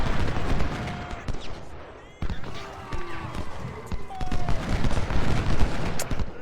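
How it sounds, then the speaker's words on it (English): Mississippi rifle volleys in the Civil War strategy game Ultimate General, fired at skirmishers from extreme range: crackling rolls of musketry and scattered pops over a battle din, with someone talking throughout. "they are armed with the Mississippi rifle, which is a decent weapon. But they're shooting at skirmishers at extreme range"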